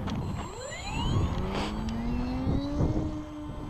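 Electric motor of a Brodak P-40B control-line model plane running up, a steady rising whine with climbing pitch sweeps, loud and close over outdoor background noise.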